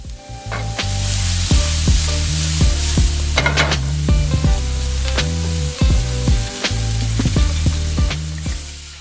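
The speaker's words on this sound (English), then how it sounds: "I'm going in with my chopped vegetables and garlic. I'm just going to saute those up a little bit" Chopped vegetables and garlic sautéing in a hot pan, a loud continuous sizzle broken by repeated clanks and scrapes of a utensil stirring against the pan, with no talk.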